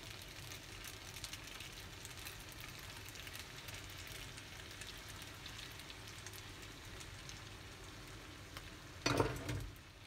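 Beef spaghetti sizzles and crackles in a pan as it is stirred with a splash of pasta water, a steady frying hiss with a brief louder scrape near the end.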